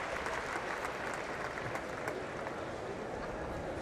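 A tennis crowd applauds Enqvist and Henman at the 2000 Cincinnati final, with steady dense clapping that holds at an even level throughout and no voices rising above it.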